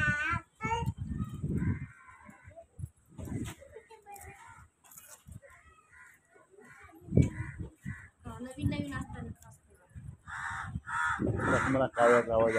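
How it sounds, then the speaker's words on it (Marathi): Crows perched in mango trees caw repeatedly from a moderate distance, with bursts of calls near the start and a denser cluster at the end, mixed with a voice speaking throughout. "मला कावळ्याचा आवाज ऐकतो"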